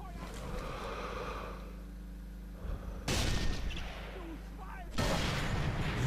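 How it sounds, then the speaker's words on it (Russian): Sniper rifle gunfire in the Sniper Elite 3 video game: sharp, loud broadband shots land around the three- and five-second marks over a steady rumbling battlefield ambience, with game effects underneath. "Ох, кто там у нас там стреляет."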